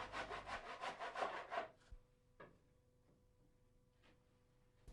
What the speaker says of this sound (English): Always a good idea to use a tenon saw when cutting small decorative timbers like this.